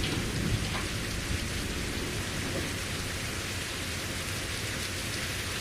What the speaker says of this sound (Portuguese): Barulhando essa chuva.